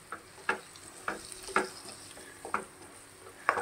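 Fried prawns and gongura leaves are mixed together in a pan. A low sizzle carries under about six distinct scraping strokes of a spatula, spaced roughly half a second to a second apart.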